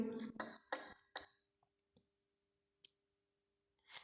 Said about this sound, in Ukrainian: щільно ставимо кубик на кубик, і в нас виходить башточка з трьох кубиків